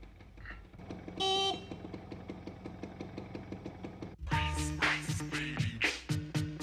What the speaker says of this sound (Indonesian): Apa-apaan main di klakson malam-malam begini?